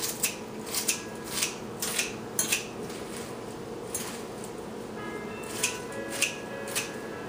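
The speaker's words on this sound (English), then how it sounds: "I give another quick chop with the scissors." Scissors snipping through salad leaves in a bowl, a series of quick, soft crisp cuts in irregular bursts, close and fairly quiet.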